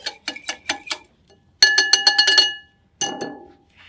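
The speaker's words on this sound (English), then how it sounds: "you're going to whisk it together" A whisk beats a mixture in a bowl in quick bursts of rhythmic metallic clinks, several strokes per burst with short pauses between them.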